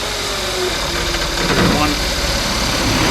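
A Kia Soul's 1.6-liter engine runs at a steady idle, a dense, even rumble that holds at the same loudness throughout with no clear revving.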